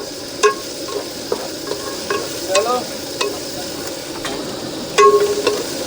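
Onion and garlic paste being stirred in a frying pan for a goat mutton dish, with soft clinks of a spoon against the pan several times over a faint, steady sizzle.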